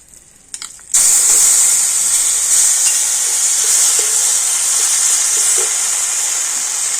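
Ground spice paste tipped into hot oil with turmeric and chilli powder for a bitter gourd dish, bursting into a loud sudden sizzle after a second of quiet stirring, then holding a strong steady hiss with faint scraping.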